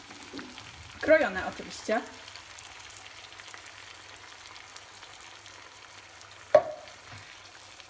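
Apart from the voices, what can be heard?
canned diced tomatoes poured into frying pan with spinach, sizzling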